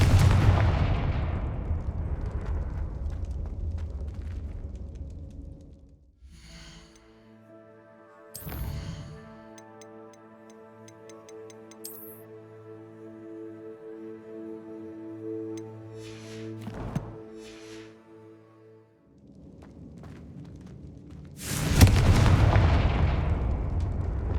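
Blasts from the Confringo spell in the Hogwarts Legacy video game, heavy booming explosions that open and close the stretch, with a few sharp cracks and a sustained magical tonal hum between them.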